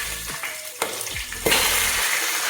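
Curry leaves, dried chilies and peanuts sizzling in hot oil with browning dal for sambar: a steady frying hiss with a few crackles and stirring knocks, swelling into a louder, fuller sizzle as more ingredients go into the pan.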